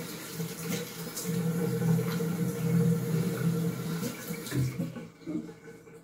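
Water splashes and runs steadily while a face is washed with a facial cleansing brush, a continuous wet wash close by that thins out near the end.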